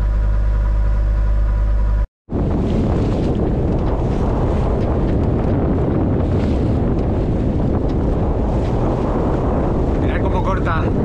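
Strong wind roars across the microphone while sailing a boat in the Caribbean, a steady loud buffeting with water rushing beneath the hull, continuous after a brief dropout at the start.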